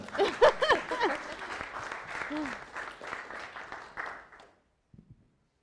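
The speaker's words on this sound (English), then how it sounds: "give a huge round of applause for the first speaker" Crowd applause fills the room, steady clapping that carries for several seconds before fading out, with a couple of faint claps trailing afterward.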